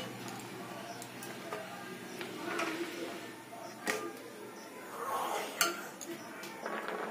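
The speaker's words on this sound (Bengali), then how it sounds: "সিমাইটা দিয়ে ভালোভাবে নাড়তে হবে" Ghee-fried vermicelli is stirred in a pan while cooking sugar-free semai, giving soft intermittent scraping with a few sharper clinks of utensil on metal, fairly quiet and close.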